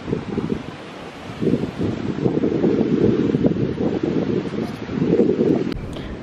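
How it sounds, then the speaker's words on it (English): Choppy sea on a windy day at Halmstad, Sweden, with a steady low roar of waves and surf under heavy gusting wind buffeting the microphone. "you see the sea. It's so wavy."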